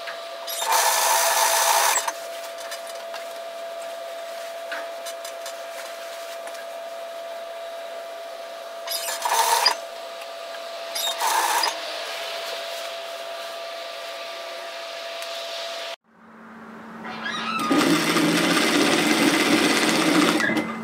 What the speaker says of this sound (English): Now we're going to sew up towards the underarm and make sure those underarm seams match.